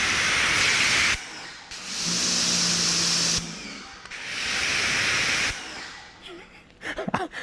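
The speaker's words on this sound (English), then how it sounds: "let's check out the difference starting with Greenworks. Not even close. The Ryobi is so much quieter." Greenworks and Ryobi pressure washers run indoors, each a loud, steady broadband hiss of spraying water and motor lasting a couple of seconds, switching on and off in turn, the second bout slightly softer, with clatter at the end.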